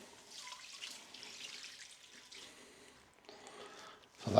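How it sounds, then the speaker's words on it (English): Stock, about 360 ml, poured into a pan of reduced garlic for creamy garlic pork and cabbage, giving a soft, steady liquid splash and trickle for several seconds that swells to a louder slosh at the end. "Next thing to go in is the remainder of our stock, which is about 360 mils"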